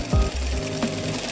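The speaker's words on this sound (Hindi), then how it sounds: "तो अब आपने इसको टर्न करके सीधी तरफ सिलाई लगानी है ऐसे।" A sewing machine stitches a half-inch seam on palazzo pants in a brief, close, rapid mechanical chatter with a low motor hum, no talking.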